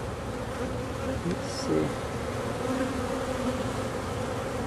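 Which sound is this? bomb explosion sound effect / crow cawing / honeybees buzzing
honeybees buzzing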